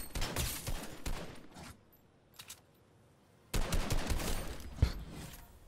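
Automatic gunfire in the video game Fortnite rattles out in two loud rapid bursts separated by a quiet pause of over a second.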